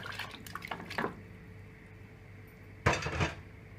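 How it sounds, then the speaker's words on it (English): Mutton pieces and stock go into a cooking pot: a short clatter of metal and wet splashing, a quieter pause, then a second louder burst of clinking and sloshing close by. "now I'm going to add the mutton along with the stock"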